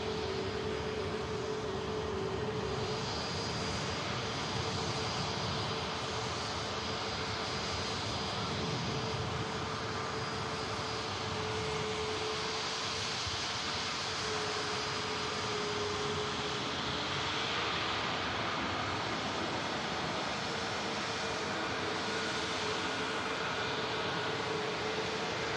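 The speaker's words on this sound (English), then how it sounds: "Aircraft on approach, 247 Aviation Learjet in from Belfast in a moment" Steady broadband jet roar of a 247 Aviation Learjet on final approach to land at Manchester Airport, a continuous wash of engine noise holding level throughout with a faint whine, no talk.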